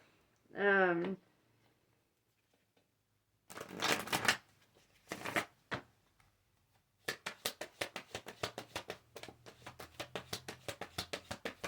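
Tarot cards shuffled and riffled by hand, a rapid run of crisp papery flicks after a brief voice and a couple of softer rustles, close and fairly quiet.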